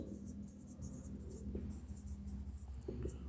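Marker or chalk strokes on a classroom board during a maths lesson sound as quiet, scratchy swipes in short repeated bursts, faint and close over a low background hum.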